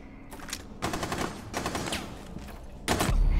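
Gunfire in the tactical shooter Rainbow Six Siege comes as dense, loud bursts of rapid automatic shots, with brief gaps between them and a heavier burst at the end.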